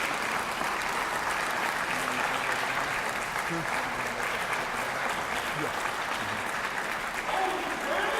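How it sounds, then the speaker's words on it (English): A large audience at an awards ceremony claps steadily and loudly for the full stretch, a dense wash of applause with no break. "give these black males a round of applause"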